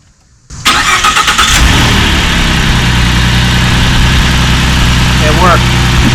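A Ford F150 pickup truck, just repaired with a new fuse, cranks over briefly after a quiet moment, catches and settles into a loud, steady idle that continues throughout.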